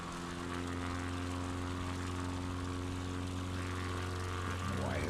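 A flying machine's engine holds a steady partial-throttle drone over an airport at night in Dubai, a constant propeller-like hum with low tonal bands, fairly even and moderately loud with no talk over it.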